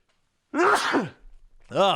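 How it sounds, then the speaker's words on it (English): A single close sneeze bursts out after a moment of silence, followed by a short voiced exhale. "Sneezing."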